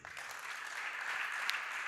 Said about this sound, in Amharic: እስቲ ለጌታ ክብር አጨብጭቡ አንዴ።